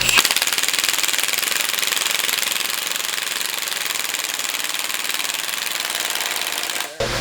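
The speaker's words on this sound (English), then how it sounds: "you take the impact and that'll push it all the way in" Impact wrench driving a socket-and-bolt jig to press a pulley onto an LS engine during an S10 swap, hammering in one continuous loud rapid rattle for about seven seconds before stopping abruptly.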